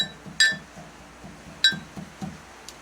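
Moringa leaves pounded by hand inside a drinking glass, giving two sharp glassy clinks followed by a run of soft, dull thuds at a steady rhythm, close and fairly quiet with no talking.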